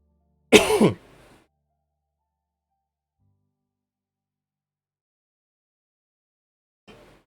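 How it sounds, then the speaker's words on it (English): A single sharp, harsh cough rings out close and loud near the start, a brief throat-clearing burst followed by long silence and a faint trace of a voice at the very end. "It's just my normal cough."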